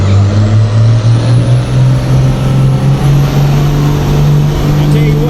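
A truck engine roars loudly at a truck and tractor pull, a sustained deep drone with a steady rising pitch held for several seconds, close and continuous, with some announcer talk underneath.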